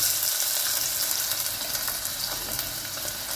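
Chopped onions and garlic sizzle steadily in hot mustard oil in a pot for Punjabi kadhi, a close, even crackling hiss with no voices.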